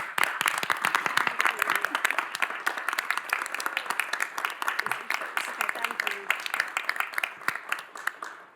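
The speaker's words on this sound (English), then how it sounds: "Please stand and give her a round of applause." A standing audience applauds at a county commission meeting in Knox County, Tennessee, with many hands clapping in a crisp, dense, steady patter that carries on for several seconds before tapering off.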